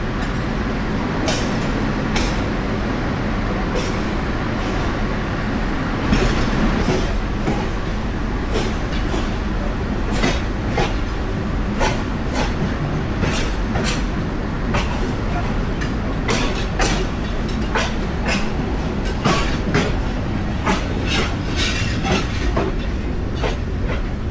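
A night passenger train running from Dhaka to Natore in Bangladesh, with a steady rumble and repeated clickety-clack wheel clicks over rail joints, continuous and close throughout.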